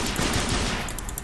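A Colt 1873 revolver fires in the shooter game Shengsi Juji, a fast burst of loud, close shots fired in quick succession with no talk.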